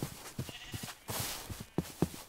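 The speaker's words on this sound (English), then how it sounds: "Pink sheep." Several short bleats from a pink sheep in the video game Minecraft, in hardcore survival mode, come in a quick irregular series over a soft background hiss, near and fairly clear, with no talking.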